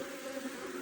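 Honey bees buzz inside an open hive during an inspection, a steady, close, droning hum that holds the whole time with no talk.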